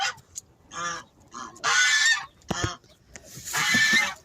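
A Guinea goose honks repeatedly at its nest, loud, close honks in irregular bursts with brief pauses between calls and no talk.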